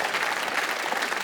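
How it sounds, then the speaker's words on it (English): Audience at a cooking competition show applauding the volunteers, a brief, even wash of many hands clapping at moderate distance, steady and unbroken. "round of applause again for our volunteers."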